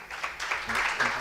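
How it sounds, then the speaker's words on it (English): An audience applauding after a speech at a roundtable of media executives, a short, steady patter of clapping mixed with talking. "A round of applause for him."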